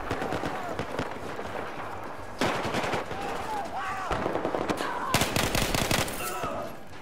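Automatic weapon fire in Battlefield 4 on the Dragon Valley map in Gunmaster mode, with rapid bursts of shots close by, several distinct volleys separated by brief pauses, and some faint background game noise.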